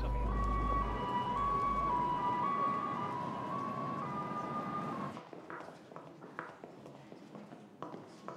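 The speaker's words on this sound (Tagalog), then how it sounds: "Ambulansya!" A wailing ambulance siren rises and falls with a steady tone over a low rumble for about five seconds, then cuts away to quieter scattered knocks and movement.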